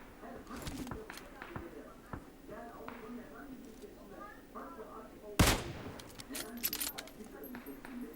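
Gunfire from a PUBG Mobile match: scattered single shots and a sharp, louder burst partway through, set against background game sounds while players talk over it.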